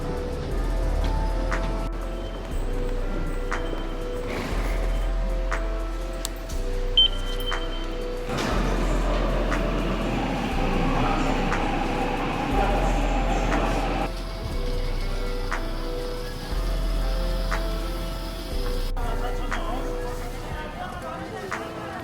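Subway metro ride in Seoul: steady low rumble of the train running throughout, with the drone shifting in level as the car moves, carrying on for about twenty seconds.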